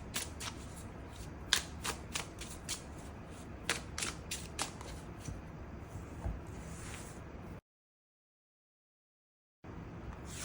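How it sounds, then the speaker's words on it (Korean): Tarot cards riffled and drawn in a string of crisp, rapid slaps and flutters, close and fairly loud with no voices, then a short dead-silent gap before the rustling picks up again. "추가 카드 뽑아보도록 하겠습니다"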